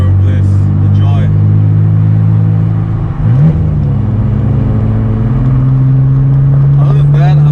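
A BMW Z3 3.0 with a manual gearbox and a deleted muffler drives along a canyon road. Its loud exhaust drones steadily from the driver's seat, with a gear change partway through and someone speaking over it throughout.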